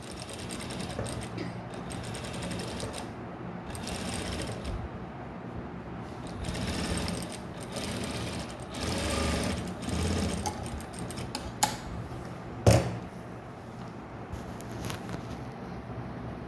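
A sewing machine hemming a blouse runs steadily with a fast mechanical whir and needle clatter, pausing briefly and resuming, close and fairly loud with no talking.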